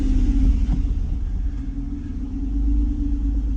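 A 1995 Acura NSX engine starts up and settles into a steady, loud low idle rumble with a faint tonal hum, close by and with no talking.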